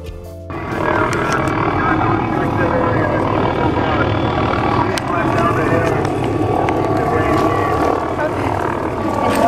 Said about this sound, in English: a police helicopter is telling us to go back down